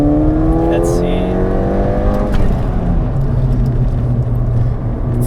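Modified turbocharged Ford Fiesta ST heard from inside, engine droning and rising through the revs with a quick gear change partway, loud and continuous.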